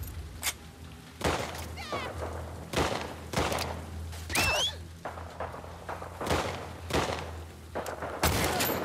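Gunshots in the game The Last of Us Part II, a series of sharp separate blasts spaced about a second apart, fairly loud over a low background hum.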